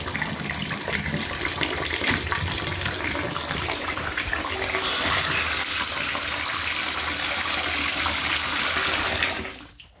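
Water gushes loudly and steadily from a bathtub spout fitted with a diverter, a continuous splashing rush that runs for about nine seconds before cutting off abruptly.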